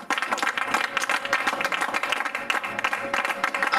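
A church congregation claps during a sermon, dense, fast applause sustained throughout at fairly close range, with little talking over it.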